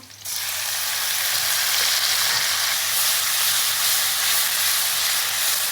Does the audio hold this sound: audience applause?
no